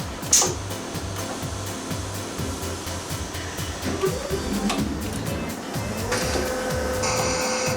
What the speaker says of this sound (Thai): เครื่องเชื่อมหนึ่งเครื่องสามารถเชื่อมได้ 2 ประเภท ซึ่งจะช่วยลดเวลาในการผลิตได้อย่างมาก